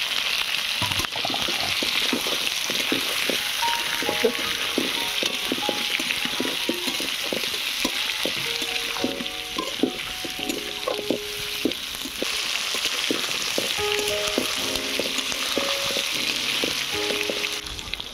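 Washed potatoes dropped onto onion and garlic frying in oil, a loud steady sizzle and crackle filling the whole stretch, with scattered bubbling pops and light stirring clinks and no speech.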